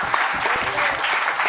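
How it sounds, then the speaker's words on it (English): An audience claps at the finale of a junior insurance awareness quiz, dense, steady applause filling the room for a brief burst. "Give them a round of applause."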